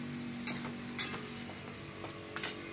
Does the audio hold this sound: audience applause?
no